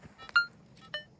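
Two short electronic beeps from an AKA Intronic metal detector during testing in a test garden in Spain, a quick double tone followed by a single beep, with faint low hum between.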